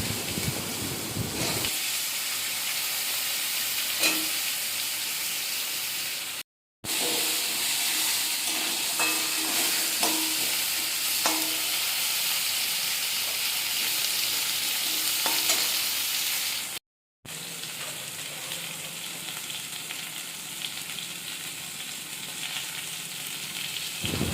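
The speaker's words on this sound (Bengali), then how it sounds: "ওই কেটে রাখা সবজিগুলোকে দিয়ে ভালো করে ভেজে নিতে হবে" Vegetables hiss and crackle in hot oil for a long stretch, with occasional stirring scrapes and two short silent gaps, no talking.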